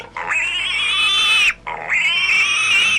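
A pig gives two long, drawn-out squealing calls in quick succession. Each call is loud and close, with a short pause between them.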